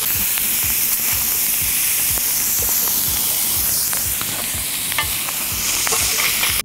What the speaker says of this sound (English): All right, so we sear the one side,